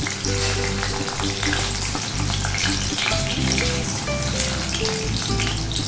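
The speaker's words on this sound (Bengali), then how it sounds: "একটা বড় সাইজের আলু 8 টুকরো করে ভেজে নিচ্ছি।" One large potato, cut into eight pieces, fries in hot oil in a kadai with a steady, close crackling sizzle and scattered pops throughout, alone with no voices.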